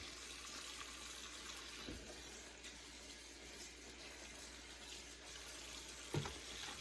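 Mustard greens are washed in a sink under running water, a soft continuous rush with a couple of brief splashes and knocks, fairly faint and with no voices.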